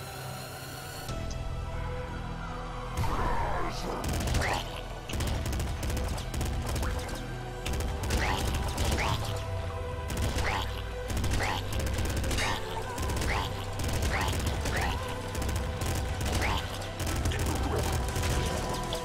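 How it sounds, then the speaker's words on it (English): Assault rifle fire in a video game comes as repeated bursts of sharp shots at fairly regular intervals over a constant low rumble, with the sound of the game continuing between bursts. "I am wasting too much ammo."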